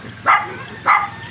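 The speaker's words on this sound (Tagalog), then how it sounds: "Tapang ng aso." A dog barks twice, about half a second apart, fairly loud and close, with faint background noise between barks.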